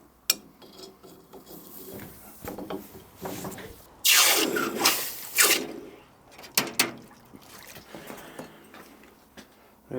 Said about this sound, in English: And quench it in a bit of water.